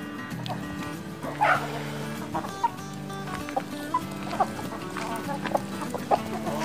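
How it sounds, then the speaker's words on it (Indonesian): Chickens clucking in a backyard coop during a feed-mixing session, with a louder squawk early and several short, sharp clucks scattered over steady low background hum; a dog is faintly present. "kita mau makanin ayam ini"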